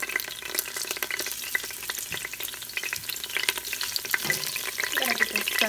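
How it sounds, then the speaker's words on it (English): A jalapeno frying in hot oil on a stovetop while potato and chicken tomato soup is being made, giving a steady, close crackling sizzle that grows slightly busier toward the end, with no talking. "I'm also going to put this jalapeno into the oil."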